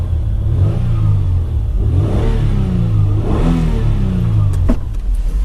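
A 2000 Toyota Estima G-Spec V6 AWD revs a couple of times from the driver's seat, engine note rising and falling in two clear swells over a steady idle, loud and close with no talk.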